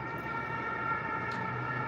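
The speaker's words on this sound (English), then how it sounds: "There's an ambulance right there." An ambulance siren wails faintly from a distant street, a steady tone over low traffic rumble.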